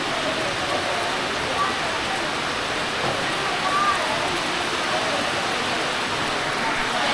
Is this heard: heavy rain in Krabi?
yes